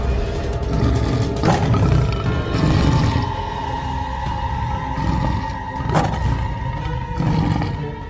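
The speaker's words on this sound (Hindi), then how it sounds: "ये इतना बड़ा बाघ जो हमें शिकार बनाने आया था" A large tiger in a cartoon jungle lets out deep, drawn-out roars and growls, several swelling bursts at close range against a continuous rumbling background, with no speech.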